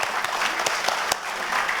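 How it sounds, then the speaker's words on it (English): An audience applauds at a live political rally in Antigua, a dense steady clatter of many hands clapping throughout, fairly close and without talk. "Give them a big round of applause."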